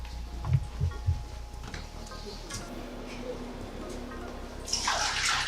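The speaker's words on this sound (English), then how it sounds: "Empty the contents into the sink, rinse the basin, dry the basin" Water is emptied from a basin into a sink during perineal care, a broad rush of splashing and draining that swells near the end after quieter knocks and handling sounds.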